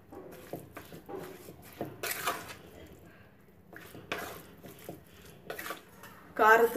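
Mustard-fenugreek powder being stirred into lemon pickle, uneven scrapes and clinks of a spoon against a bowl, close and quiet with a sharper knock at the end.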